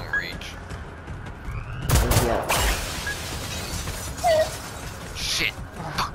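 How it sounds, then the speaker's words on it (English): A single loud shotgun blast rings out outdoors, followed by a long rolling echo and scattered clatter, with a voice around it. "Fucking shotgun won't reach."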